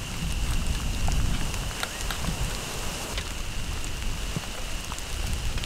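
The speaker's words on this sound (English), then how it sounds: "that rain is getting pretty heavy now" Heavy rain falls steadily on an Australian campsite with a traditional swag, a dense, continuous hiss with scattered drops pattering on nearby surfaces, no voices.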